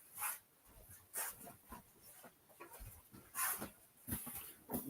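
Bella, a pet dog let in from the door, gives several short, soft whimpering whines in quick bursts, faint and fairly close, with no talking.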